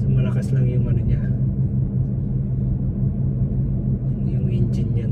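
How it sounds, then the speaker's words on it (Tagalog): Car engine rumbling steadily from inside the cabin during a test drive, a low continuous drone with people talking over it. "Yung engine niya tunog"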